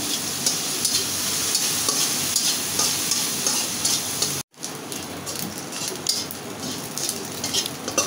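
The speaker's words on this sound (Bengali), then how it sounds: "লাল লাল করে ভেজে নিচ্ছি" Prawns frying in oil in a pan give off a steady, dense sizzle with stirring and clatter of a utensil throughout, close and loud, with a brief dropout midway and no talking.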